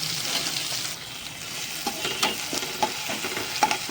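Fenugreek greens sauté with salt and crushed chilli paste in a pan: a steady broad sizzle with scattered sharp clicks and scrapes of stirring, close and fairly even throughout, no voices.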